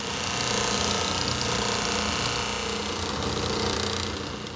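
Buffing wheel polishing a bloodwood executive pen on a Craftsman wood lathe, a steady loud mechanical whir and hum running continuously with a faint rattling texture, easing slightly at the end.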